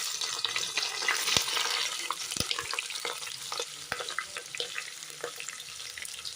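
Onion and green chillies sizzling in hot oil for biryani, a close, steady hiss of frying broken by occasional sharp clicks and scrapes of stirring, with no one speaking.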